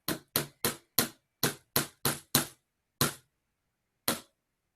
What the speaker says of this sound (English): And I'm just going to hammer this.